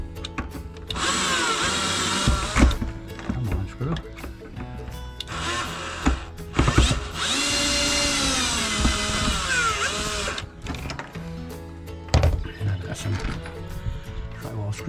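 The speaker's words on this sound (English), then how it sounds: "I'm gonna take in a drill. I'll pull this screw out" A power drill whirs in several bursts while a screw is pulled out during a Jayco Eagle camper basement renovation, with the motor revving up and down close by and stopping between runs, and someone talking at times.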